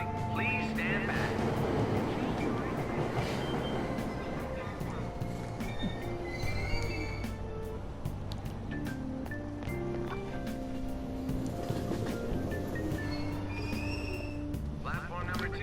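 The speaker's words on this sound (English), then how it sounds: "Train doors are now closing." A subway train in the video game Persona 5 Royal pulls out of Aoyama Itchome station, a steady loud rumble of rail noise and rolling carriages lasting throughout, with tonal hum layered over it and no speech.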